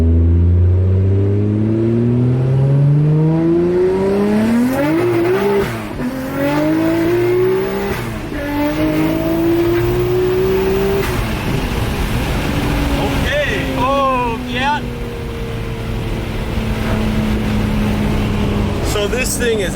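A loud, close Nissan Skyline R34 GT-R engine revs up through first, second and third gears, its pitch climbing and then dropping at each shift.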